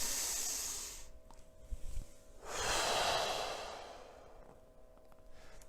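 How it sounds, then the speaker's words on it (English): A single slow, deep breath drawn in through the nose, close and quiet, during an EFT tapping session, heard alone with faint breathy hiss before and after. "Take a deep breath in."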